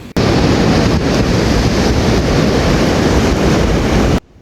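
Loud, continuous roar of ocean surf and strong wind buffeting the microphone on Karangpapak beach, sustained and close, cutting off abruptly at the end.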